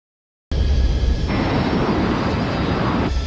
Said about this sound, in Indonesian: pesawat mereka pun lepas landas.